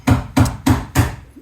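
Four evenly spaced, loud metal hammer blows on Porsche 911 Carrera short shifter parts, each a sharp strike with a short ring, close by and with no talk.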